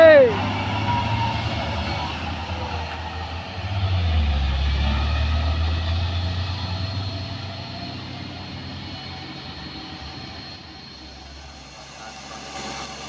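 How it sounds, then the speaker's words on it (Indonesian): A loaded palm oil tanker truck drives along a road, its diesel engine droning steadily and loud up close, with a low rumble swelling midway and fading toward the end. "Ini dia truk kelapa sawit bosku"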